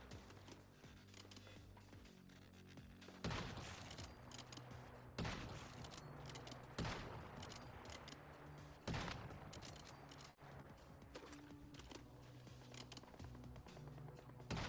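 Gunfire in the survival shooter Once Human, with bursts of sharp shots spaced every couple of seconds over steady game ambience and music, fairly quiet overall.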